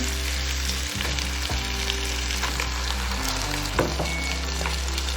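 Chicken sizzles and crackles in a hot pan for curry laksa, a steady frying hiss with a low hum beneath and a few sharp clinks of stirring.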